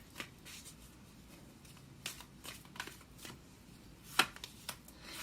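Tarot cards shuffled by hand with light riffles and scattered sharp flicks and snaps as two cards are drawn, quiet and close.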